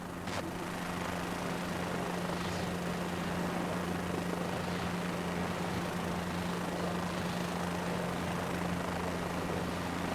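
A helicopter rises to a low hover in a flight simulator game, giving a steady, loud rotor drone and engine hum that holds constant throughout with no talk.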